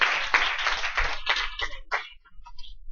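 Several people in a classroom clap briefly in a short, uneven burst of claps that thins out and fades into quiet within a couple of seconds.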